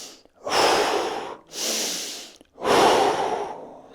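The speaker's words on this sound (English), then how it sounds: "We're going to breathe in through your nose." Three deep, strong breaths drawn in through the nose during a fascial exercise session, each a loud, airy rush lasting about a second, separated by short pauses, close and with no talking.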